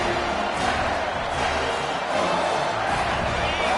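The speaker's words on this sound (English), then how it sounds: "This crowd busting the decibel meter and trying to will a 4th down stop" A packed college football stadium crowd at Clemson versus UCF roars before a 4th down play, a broad sustained wall of noise with a commentator talking over it.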